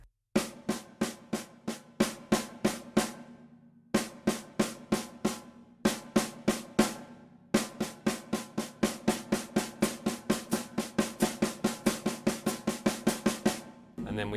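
Snare-and-tom drum lick built on groupings of nine, played evenly with no accents: a close, steady stream of crisp strokes in repeated bursts separated by short gaps, then one long continuous run.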